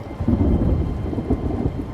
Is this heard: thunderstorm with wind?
yes